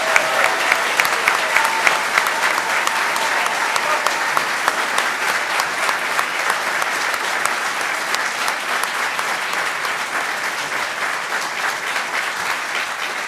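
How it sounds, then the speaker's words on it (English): Audience at a U.S. Senate debate between Russ Feingold and Ron Johnson breaks into sustained, loud applause, a dense wash of clapping that holds steady and tapers slightly toward the end. "And now a round of applause, please, for our 2 candidates, Senator Russ Feingold and Ron Johnson."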